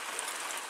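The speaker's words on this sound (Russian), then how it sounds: "Дождь на улице." Rain falling outside, an even, moderately faint hiss of steady rainfall with no other sounds.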